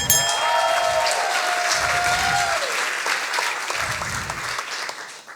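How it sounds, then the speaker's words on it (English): Sustained audience applause at a Berlin science slam, a dense steady wash of many hands clapping for about five seconds, with a brief whistle-like tone early on and a little crowd noise, easing slightly at the end. "Big applause for Anna."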